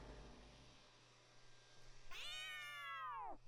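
A cat demon fused in the video game Raidou Remastered gives a single bright, drawn-out meow that bends downward at the end, clear and alone over a low steady game hum.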